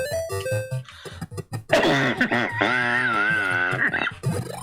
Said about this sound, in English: you're going to hear me cough a lot.